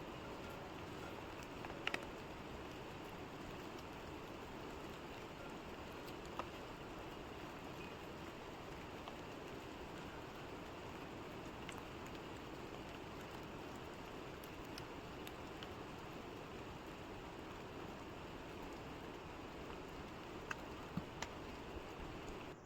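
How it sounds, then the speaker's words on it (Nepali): Steady, even hiss of rain falling throughout, with no voices and only a few faint clicks. "पानी पर्दैछ साथी हो।"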